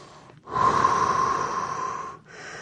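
A single long, forceful exhale during a low-impact morning workout, breathy and close with a slight whistling tone, lasting under two seconds between quiet pauses.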